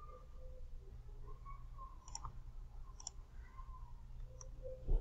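A few computer mouse clicks in StatCrunch, sharp and isolated around the two- and three-second marks and near the end, heard close over a low steady background hum with no talking.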